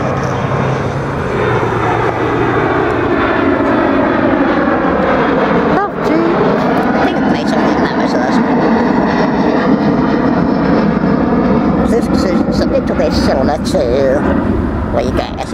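An aircraft passes over near Heathrow Airport, its loud continuous engine roar filling the whole stretch with a slowly shifting pitch. It stays close and dominant, with a person talking faintly underneath.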